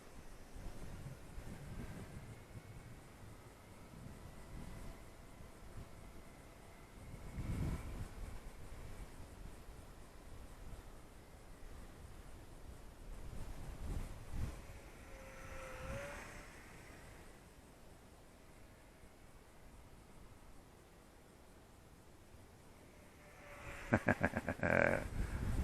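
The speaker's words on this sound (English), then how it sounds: "got a little more wind out here this morning" Morning wind gusting at an RC model flying field, steady low buffeting against the microphone with occasional stronger gusts, faint overall, and a few sharp clicks near the end.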